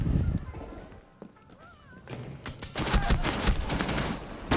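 Gunfire in the Rainbow Six Siege video game, a quiet pause followed by rapid bursts of automatic shots, fairly loud and sustained through the second half.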